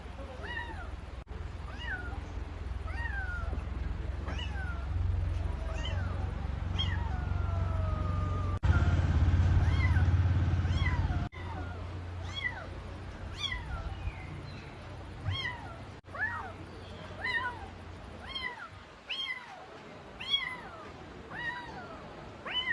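Mother cat with kittens meowing repeatedly in short, high calls, some close and some further off, over a steady low rumble, with a brief louder noise burst in the middle.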